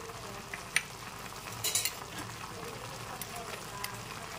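Fish head and green chillies frying in a pan for a pumpkin-greens dish, a soft steady sizzle with a few sharp stirring clinks near the start, close and alone.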